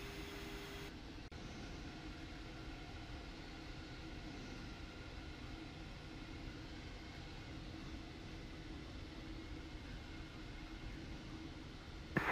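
Steady broadband roar of a private jet's engines and airflow during a landing approach at St. Thomas, continuous and fairly loud from inside the aircraft, with no voices.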